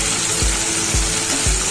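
Tempering of spices sizzling in hot oil over a low gas flame while cooking Maharashtrian horse gram usal, a steady soft frying hiss with a few dull low thumps, close and without speech.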